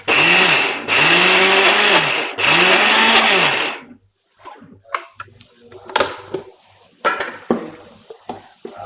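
A kitchen mixer grinder whirs loudly in three long bursts while grinding grated coconut for a bitter gourd theeyal, each burst stopping abruptly, followed by clinks and scraping of the jar and lid.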